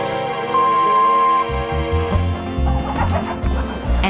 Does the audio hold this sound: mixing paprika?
no